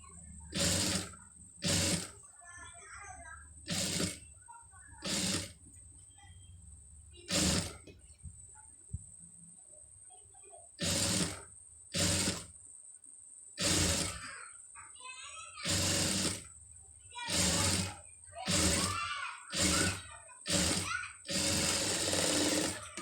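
A sewing machine stitches piping onto fabric in short, loud bursts with pauses between them. Someone talks quietly in the gaps.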